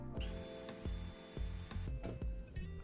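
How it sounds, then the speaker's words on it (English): A power drill bores holes for knobs in a wooden bifold door, a close, continuous whine with rhythmic thumps and ratcheting clicks as the bit works through the wood. "So now it's time to drill holes for the knobs."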